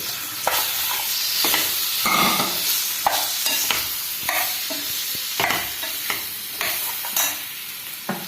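Cut lemon pieces are stirred in a hot pan with asafoetida on a low flame for a Kerala-style lemon pickle, giving a continuous close sizzle broken by repeated scraping stirs, with no talking.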